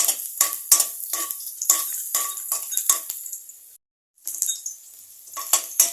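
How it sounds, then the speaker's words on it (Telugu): Long-cut garlic frying in a pan for a garlic and fenugreek curry, with repeated sharp spoon scrapes and clinks against the pan over a light sizzle, one brief silent gap near the end. "వెల్లుల్లిని ఒక 2 మినిట్స్ ఫ్రై చేసుకోవాలి"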